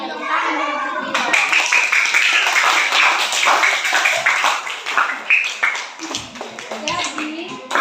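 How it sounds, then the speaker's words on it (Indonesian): Children in a classroom clap together after a group presentation, a dense burst of hand claps with scattered voices mixed in, tapering irregularly toward the end. "Tepuk tangan dulu untuk Dilon."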